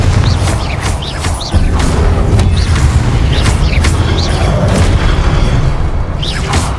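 Confringo spell explosions in the Hogwarts Legacy video game, repeated booming blasts and swooshing magic effects over a dense, loud rumbling bed of game combat sounds.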